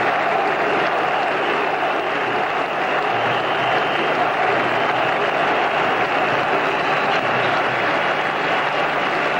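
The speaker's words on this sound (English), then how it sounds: "Wasti acknowledges the applause of the thousands of Pakistan supporters in the ground" Thousands of Pakistan supporters applaud at a cricket ground during a World Cup semi-final at Old Trafford, a steady, dense wash of clapping and crowd noise sustained throughout without pause.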